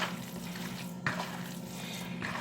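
A meatloaf mixture being stirred by hand, giving soft, wet, squelching strokes in a short steady run with a couple of sharper scrapes.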